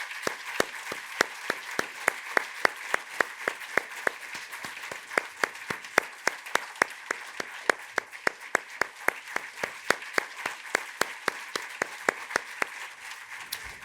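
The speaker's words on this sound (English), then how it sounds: "we stand up and clap for them and thank the healthcare workers" A gala dinner audience claps for healthcare workers, a steady, fairly even stream of individual claps at moderate distance, sustained for the whole stretch without talk.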